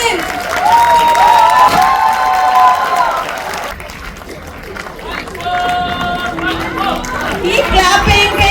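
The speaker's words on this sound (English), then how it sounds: "Keep clapping parents." Parents clap and cheer at a school annual function stage show, a lively mix of applause, shouts and children's voices over music, dipping briefly in the middle before rising again.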